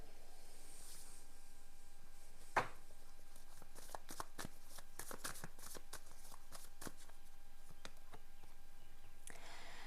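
Tarot cards are shuffled and squared up in a soft, faint series of rustles and light snaps, with one sharper tap near the start, in a quiet room.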